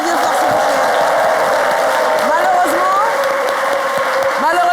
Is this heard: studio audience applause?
yes